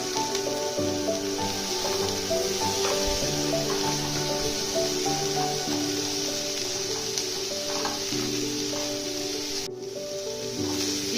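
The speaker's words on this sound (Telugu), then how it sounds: "ఇప్పుడు వీటిని మంచిగా గోల్డెన్ బ్రౌన్ కలర్ వచ్చేంత వరకు ఫ్రై చేసుకోవాలి" Tomato pieces and cardamom fry in a pan for a dhaba-style paneer butter masala, giving a steady, close sizzle with a bright hissing wash and light stirring noises, with no talk over it.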